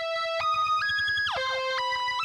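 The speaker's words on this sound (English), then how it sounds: "I have a mono saw lead right here, just based off a simple sawtooth wave." A mono synth lead built on a simple sawtooth wave with a low-pass filter and light distortion plays a short stepped melody of sustained bright notes with a gliding pitch drop, loud and dry.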